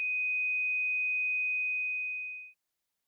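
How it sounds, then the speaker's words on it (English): A steady 2500 Hz sine test tone plays alone, clear and constant, then fades out abruptly after about two and a half seconds, leaving silence. "2500 Hz."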